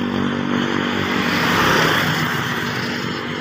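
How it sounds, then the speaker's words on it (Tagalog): Motorcycles pass along a road, their engines droning loud and near and swelling to a broad peak mid-way before easing off, with no talk over them. "Karamihan motorsiklo."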